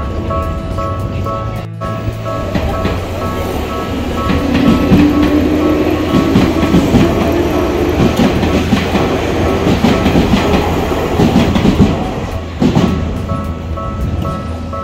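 A train runs through Jiyugaoka station in Tokyo with a loud, continuous rumble and rhythmic clickety-clack, rising in the middle as it passes close by, with a brief tonal squeal.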